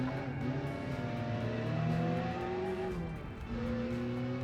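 Supercharged truck engine in the BeamNG game, revving steadily with a droning, layered tone. Pitch rises and falls slightly over several seconds with a faint whine and no voices.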